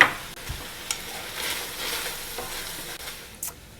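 Browned sausage and freshly added garlic sizzle in a pan, with a soft continuous hiss broken by a few scraping stirs of a utensil, close and moderately quiet.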